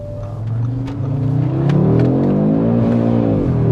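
A car engine revs up loudly, its pitch climbing steadily to a high, strained whine, heard close from inside the vehicle.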